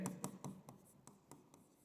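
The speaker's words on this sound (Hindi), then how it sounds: "तो मैं यहाँ पर साइड में लिख देता हूँ" A pen writes on paper during a maths lesson in a quiet room, giving faint scratchy strokes with about eight short, separate scrapes in an uneven rhythm.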